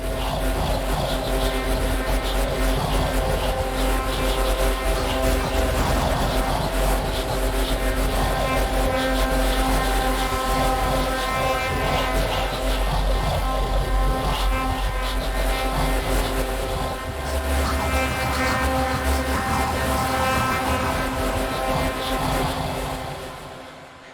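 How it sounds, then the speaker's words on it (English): Dark sustained drone from the Arturia Pigments 4 preset 'The Devil Made Me Do It', a dense evolving rumbling tone with layered harmonic voices, loud and continuous before fading at the end. "we have that drone that we were kind of just listening to mixed in with those voices"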